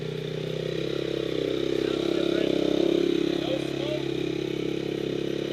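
A rebuilt Honda CRF 250R dirt bike engine running right after its first start, a steady close buzzing drone that swells briefly in the middle, with people talking nearby.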